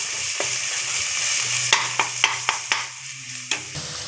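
Ginger garlic paste sautéing in a pan while cooking jackfruit biryani, with a steady sizzle and several sharp clinks of a spoon stirring against the pan.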